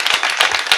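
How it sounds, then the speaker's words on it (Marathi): Brief, loud burst of audience clapping at a kirtan, dense overlapping claps close by. "एकदा जोरदार महाराजांसाठी टाळ्या वाजवायच्या."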